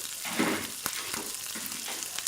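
Pieces of fish frying in hot oil in a pan, a steady close sizzle with brief crackling pops, no voices.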